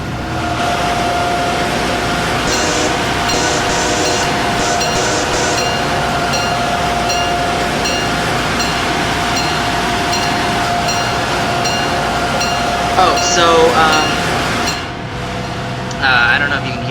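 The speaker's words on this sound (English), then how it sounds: "I don't know if you can hear me over the HHP8" HHP8 electric locomotive in Train Simulator 2016, running with a steady loud hum and rail rumble throughout, with a brief horn-like swell near the end.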